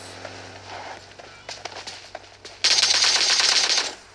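Automatic gunfire in PUBG zombie mode, rapid bursts and isolated shots early on, then a loud sustained crackling barrage in the second half, with faint voices underneath.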